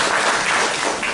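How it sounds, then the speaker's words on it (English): A church congregation at a Sunday gathering claps for the people who provided breakfast and refreshments. A short, loud burst of dense applause fills the moment with no speech. "Let's give them a round of applause."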